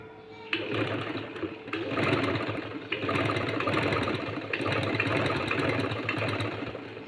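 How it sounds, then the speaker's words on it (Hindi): Sewing machine stitching piping along a round neckline over a paper strip, a steady rapid mechanical whir and clatter running in several bursts with brief pauses, close and alone. "तो इस तरह से अब मैं इसके ऊपर सिलाई लगा रही हूँ,"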